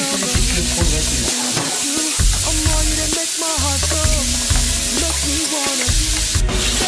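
Minced meat with lemon fries in a pan, a loud close sizzle running throughout while a utensil scrapes and stirs in repeated strokes against the pan.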